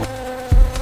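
A bee buzzing and battering about close by during a bee-sting treatment, a steady insect drone with a sudden louder thump and buzz as it flies and strikes.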